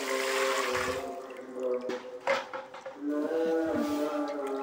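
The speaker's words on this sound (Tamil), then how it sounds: "இப்போ 1 கப் தண்ணி ஆட் பண்ணிக்கலாம்." Water pours and splashes into a bowl with a gurgling, hollow ringing, running steadily with a few surges.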